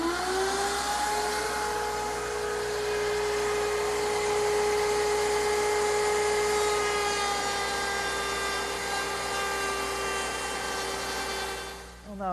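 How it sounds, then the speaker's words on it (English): A router table spins a 1/2 inch cove bit through a wood workpiece, producing a loud, sustained high whine with a steady tone that stays even for most of the clip, then winds down briefly at the end. "Now the cutter is a 1/2 inch cove bit, and I've raised it so that it's just slightly above the table to remove the material that I want."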